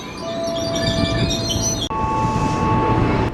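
A train departs from a station in Indonesia, the near, loud rumble of wagons layered with steady tonal whines and a sharp break midway, continuous throughout.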